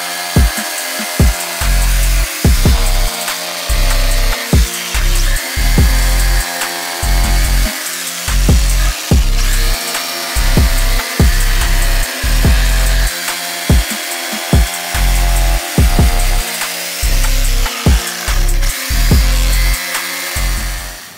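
A handheld router cuts wood for the port of a subwoofer box, a loud whining motor broken by rhythmic bursts of cutting as the bit bites repeatedly into the board, no talking.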